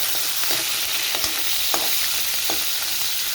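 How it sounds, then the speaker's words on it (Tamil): Green chilies and green pepper fry in hot oil with a steady broadband sizzle, broken by a few soft scraping stirs of a spoon, close and continuous, with no voices. "நல்லா பொரிஞ்சு வரட்டும்."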